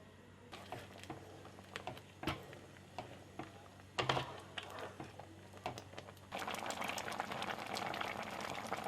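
Ash gourd and red lentils simmering with khar in a pot, a quiet bubbling with scattered soft pops and clicks that swells into a denser, frothier boil in the last few seconds.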